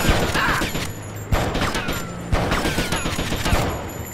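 Gunfire in Grand Theft Auto Vice City, a rapid burst of shots with a few louder single bangs over a busy game soundscape, close and fairly loud.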